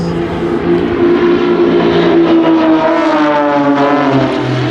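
An Extra EA300L aerobatic propeller aircraft flies over during a formation display at an air festival. Its engine drone is loud and continuous and shifts in pitch as it passes.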